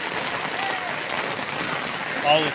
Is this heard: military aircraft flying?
no